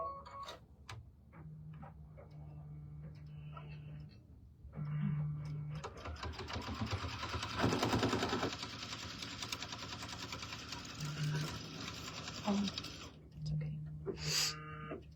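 A sewing machine runs in a sustained burst, stitching a fabric Christmas table runner, its rapid mechanical ticking steady for several seconds between stretches of talk.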